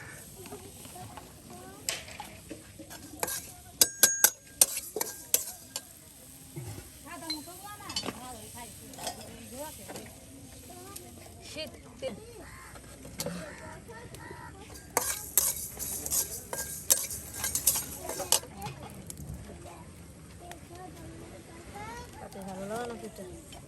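Cumin and spices frying in a pan as part of a papaya and egg biryani cooked outdoors by a riverbank, with stirring scrapes and utensil clinks over a soft sizzle while a person talks throughout.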